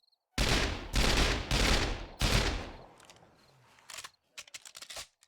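Gunfire from the zombie survival video game 7 Days to Die, four loud close shots in a row, then a ragged scatter of quicker, fainter shots and clicks.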